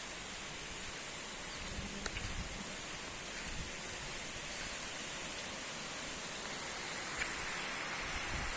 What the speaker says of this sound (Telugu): బ్యూటిఫుల్ వాటర్ ఫౌంటైన్ అండి